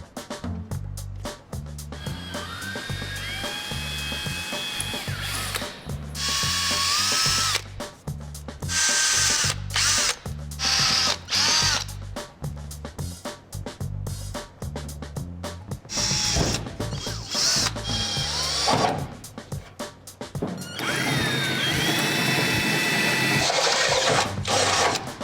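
A power drill bores holes in the body of a 700+ horsepower classic Camaro, with repeated whirring bursts and stops, rising motor whines and ratcheting clatter over a background of rhythmic music.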